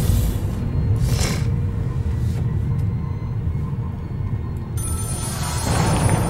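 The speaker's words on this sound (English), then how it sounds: "A phone is ringing." A telephone rings inside a horror video game, with its bell bursting out in repeated short rings over a steady low rumbling ambience. No one talks.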